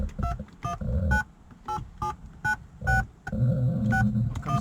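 The car phone in a BMW 750iL gives a quick series of touch-tone dialing beeps in an uneven rhythm, each a short clear tone, over a low rumble in the cabin.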